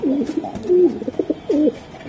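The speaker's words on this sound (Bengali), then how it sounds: "দর্শক দেন, কবুতর জোড়াটা দেখেন, পাগলা একটা জোড়া" Racing pigeons coo close by in soft, throaty rolling calls, several in quick succession with a rhythmic bubbling quality.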